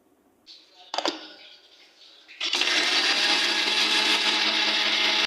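A kitchen blender grinds mustard seeds with onion and green chili, starting after a brief clatter of ingredients and then roaring loudly and steadily through the rest of the clip.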